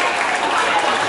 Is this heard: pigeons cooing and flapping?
no